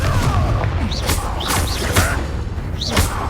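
Confringo blasting-spell explosions in Hogwarts Legacy hit as several heavy booms with sharp whooshing bursts, repeating roughly every half second over a constant low rumble of battle noise.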